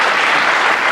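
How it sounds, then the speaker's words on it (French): Audience applause from a studio crowd on a French-language quiz show, a dense steady burst of clapping filling the whole short stretch, close and even. "Je propose d'applaudir tous ceux qui vous aident en général."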